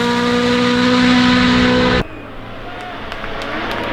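Rally cars racing at Rally Finland 2025, a loud engine roar at high revs that cuts off abruptly halfway, leaving quieter ambient noise with faint distant sounds.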